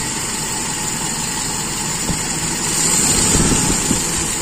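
The engine of a Toyota Kijang Super, which has trouble holding a steady idle, runs with a continuous close-up hum and vibration, rising a little in level partway through.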